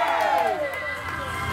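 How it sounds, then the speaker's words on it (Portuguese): Guests at a birthday party in Itaim Paulista cheer and shout loudly for Fernando in a brief burst of crowd whoops with a voice rising above, loud and close, with no distinct clapping standing out. "Palmas pro Fernando!"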